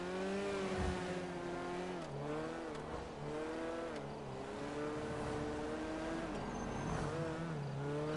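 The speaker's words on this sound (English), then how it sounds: "this car is pretty fast" A small car with cardboard add-ons driving fast, engine whining and revving in rising and falling sweeps as it accelerates and shifts, steady and fairly close with some tire noise, no voices.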